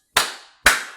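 Two sharp hand claps, evenly spaced about half a second apart, loud and close with short decaying tails, heard alone with no talking.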